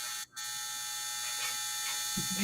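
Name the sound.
clothes dryer finishing its cycle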